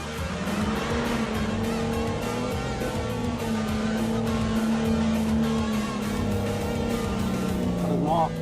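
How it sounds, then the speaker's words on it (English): A Jeep Wrangler's engine revs hard and holds a strained drone while trying to climb a sand dune, loud and continuous, with talk partly over it. "Even with more oomph and revs, the Wrangler still doesn't make it."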